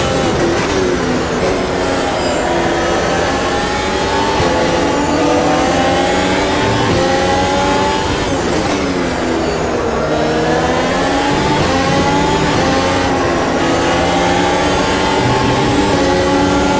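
A race car engine screams around a circuit in the Automobilista 2 racing game, loud and continuous, with revs climbing and dropping through repeated gear changes and no talking.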